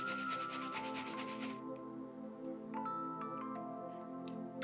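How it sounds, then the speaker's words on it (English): Rubbing and scratching on gloss Nardo Grey vinyl wrap on a BMW M4, a steady close scraping texture with a brief harsher burst at the start, then lighter scattered scratches over a low background hum. "But let's just scratch it up a little bit."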